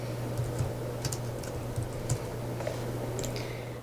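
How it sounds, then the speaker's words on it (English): Quick, light taps on a computer keyboard as a name is typed, close and fairly quiet over a steady background hum, with no talking. "I can type in the name"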